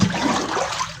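Water gushing steadily from a running water pump motor during field irrigation, a continuous rushing, splashing flow heard close up that eases slightly toward the end.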